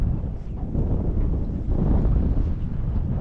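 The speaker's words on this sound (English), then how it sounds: "wind's arrived." Wind buffets an outdoor microphone beside a river log jam while fishing, a steady low rumble of gusts running through the whole stretch, strongest in the second half.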